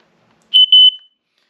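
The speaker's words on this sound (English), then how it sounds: "So another unusual item I carry with me is a smoke detector." A handheld smoke detector sounds its alarm when the test button is pressed outdoors at a campsite: a loud, piercing high beep in a few quick pulses followed by a sustained tone, then silence.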